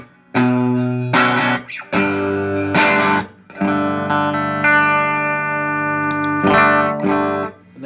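An electric guitar through a Pelican Noise Works 50/50 overdrive pedal plays crunchy chords and a long sustained ringing chord, with a gritty, saturated tone.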